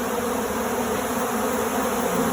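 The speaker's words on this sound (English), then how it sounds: "All that real loud roar, that's a combination of the robbers." A loud, steady roar of robber honey bees swarming a bear-damaged hive, a dense continuous buzz close to the microphone with no pauses and no voices.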